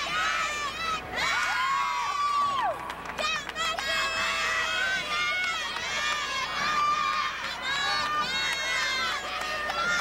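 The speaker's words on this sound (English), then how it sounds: "Some of you might think this is distracting, having the teammates yell" Teammates yelling, whooping and cheering loudly and continuously during a college gymnastics balance beam routine at a team competition, with crowd noise and commentary-style talk mixed in throughout.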